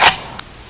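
A single sharp gunshot in a shooter video game fires at the start, followed by a quieter shot midway and another at the very end, all loud and close with no talking.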